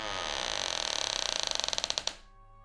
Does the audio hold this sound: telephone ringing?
no